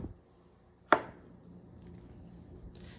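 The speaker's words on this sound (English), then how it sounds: "to cut it on a bias, you're going to angle your knife" A single sharp knife chop slices asparagus on a bias against a cutting board, one crisp close thud with a short tail and a couple of faint taps after, in a quiet kitchen.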